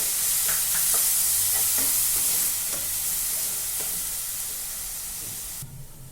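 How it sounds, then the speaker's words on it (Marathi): Tomato and ginger-garlic paste sauté in a pan for a matar batata bhaji, giving a continuous loud sizzle with light spoon taps and stirs that fades slightly toward the end. "आता त्याच्या त्याच्यामध्ये आपल्याला टॅमॅटो आणि आलं लसणाची पेस्ट टाकायची आपल्याला त्याच्यात हे छान परतून घ्यायचं आहे"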